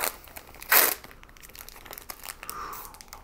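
A Magic Origins booster pack torn open by hand: one loud, sharp rip of foil wrapper followed by softer crinkling and rustling of the packaging, close up.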